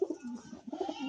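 Pigeons cooing inside a loft, several overlapping throaty coos and murmurs close by, continuous and without speech.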